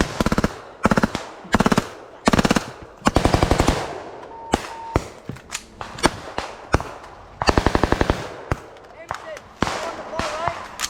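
Rapid bursts of automatic rifle fire during a Garuda Shield 2021 army exercise, loud and close, with repeated volleys and single shots spread across the clip while soldiers shout between them.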